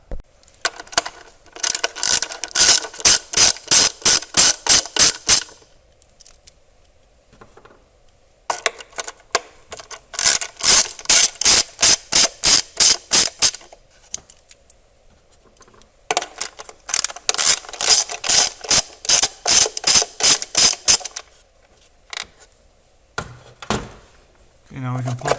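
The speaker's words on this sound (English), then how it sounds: "we have to remove this cover, these three 10mm bolts" Ratchet wrench backing out 10mm cover bolts on the engine of a 2016 Mitsubishi Outlander Sport 2.4L, loud close rapid clicking in three long bursts separated by pauses, with a few clunks near the end.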